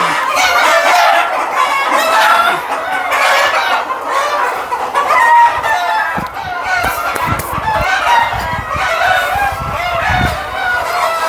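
Desi hens cluck steadily while a rooster crows on a chicken farm, busy and fairly close, with a few faint background voices and occasional knocks.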